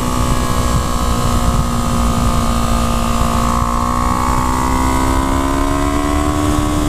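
A modded 2015 Yamaha R3 with its 320 cc engine and full exhaust drones loudly and steadily, its buzzing tone climbing gradually in pitch as the bike accelerates under sustained throttle, close and with no voices over it.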